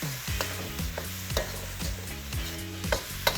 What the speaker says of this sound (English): I'm sautéing my onions, garlic, and shrimp with the cherry tomatoes